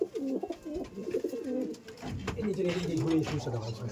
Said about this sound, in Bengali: কত সুন্দর সুন্দর পুরাতন পুরাতন গিরিবাজ পায়রা